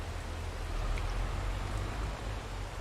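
Steady rain falling in Farming Simulator 22, a continuous even hiss of drops with a low rumbling bed, no voices.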